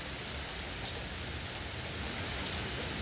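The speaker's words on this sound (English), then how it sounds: "No jogging for now, just enjoying the water and the rain." Steady morning rain falls all around, a dense even hiss of drops with occasional slightly louder patters, continuous and close throughout.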